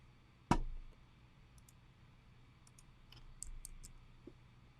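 A computer mouse clicks once sharply and close, followed by a few fainter scattered clicks over a quiet background.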